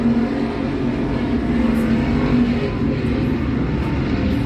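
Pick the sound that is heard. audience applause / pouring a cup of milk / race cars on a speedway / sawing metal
race cars on a speedway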